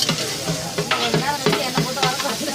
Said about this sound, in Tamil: இவங்க நல்லா வதக்கிட்டு இருக்காங்க.